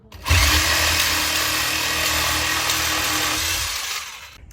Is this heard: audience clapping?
no